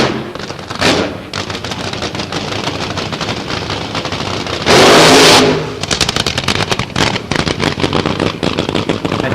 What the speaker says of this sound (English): coming to life, the engine of the number one qualifier, Don the Snake Prudhomme